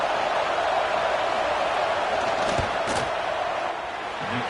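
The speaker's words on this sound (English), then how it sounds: "This crowd trying to do its part to get inside the kicker's head." A college football stadium crowd roars loudly and continuously through a field goal attempt, with a couple of brief sharp thumps partway through.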